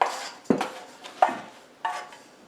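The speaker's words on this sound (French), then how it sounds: "avec notre corne, on nettoie bien l'intérieur de notre bol pour inclure toute la farine" A plastic bowl scraper drags flour from the inside of a mixing bowl while potato bread roll dough is made. About four close, rough scraping strokes come in uneven rhythm with no talking.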